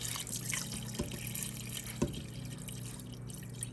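Water runs steadily into the pot of a Ninja Foodi OS301 multi cooker, a continuous close filling wash with a couple of soft knocks, no talking.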